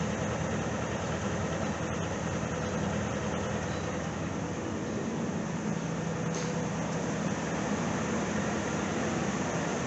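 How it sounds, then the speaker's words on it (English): Old car engine with 268,000-odd miles idling after sitting nearly six years, once called junk: a low, steady, faint mechanical drone running evenly throughout with no talk. "He said this engine sounded like a butter churn. Don't sound bad to me."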